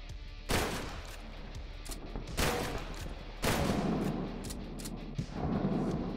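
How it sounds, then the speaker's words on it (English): Gunfire in TrenchPunk, a Wolfenstein 3D-inspired indie first-person shooter: several loud, dense bursts of rapid shots break over a constant rumbling din, with no speech. "That guy has a machine gun, huh?"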